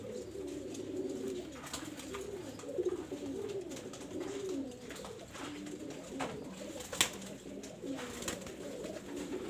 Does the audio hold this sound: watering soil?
no